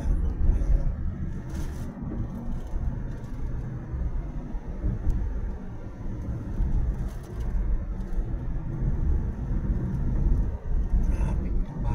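Road traffic in Baguio beside roadwork: a steady low rumble of engines and passing vehicles, moderately loud and continuous, with faint scattered higher noises over it.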